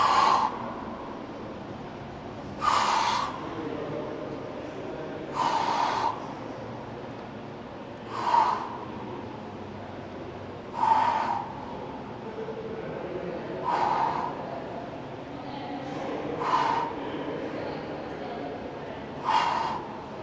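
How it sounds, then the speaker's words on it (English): Sharp, forceful breaths during hanging knee crunches, eight evenly spaced huffs roughly every two and a half seconds, close and clear over a quiet room. "really coinciding that breathing with every lift of my knees"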